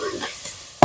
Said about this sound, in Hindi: पकते हैं टमाटर